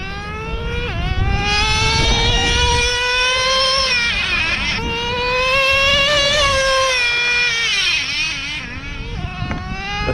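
An HPI Savage X 4.6 nitro RC truck with a three-speed transmission screams at high revs, its whining engine pitch climbing, dropping sharply at each gear shift and climbing again, loud and continuous throughout.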